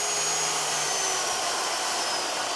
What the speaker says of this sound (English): So I'm going to increase the speed now to high and then beat again for about 3 or 4 more minutes.